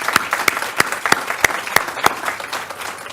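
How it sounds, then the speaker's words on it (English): Applause at a school board of education meeting: a few close, sharp claps land in a steady, even rhythm above softer scattered clapping from the room, lasting a few seconds. "she deserves a big round of applause as well"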